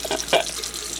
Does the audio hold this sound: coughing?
no